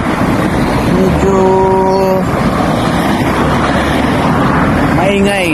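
Highway traffic roars steadily nearby with wind, as vehicles rush past and a horn toots briefly partway through.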